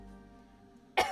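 A single sharp cough bursts out near the end of a short, otherwise quiet stretch, close and fairly loud, from a streamer during a casual live chat stream.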